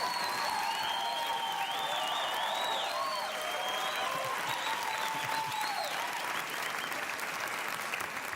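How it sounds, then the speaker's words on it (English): Studio audience at a late-night talk show clapping steadily and loudly for the full stretch, a dense wash of applause with faint scattered cheers and no talk over it. "I hope you're clapping that loud when he kicks my ass."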